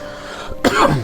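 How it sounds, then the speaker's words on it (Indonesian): A woman gives a single sharp cough, close and loud, following a brief stretch of quiet room tone. "maaf, batuk ya."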